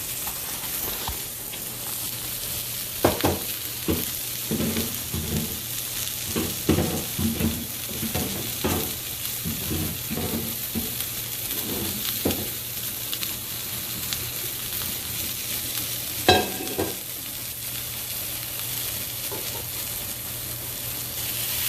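Food sautéing in a pan, a steady close sizzle with repeated scraping stirs and a few sharper clinks, no talking throughout.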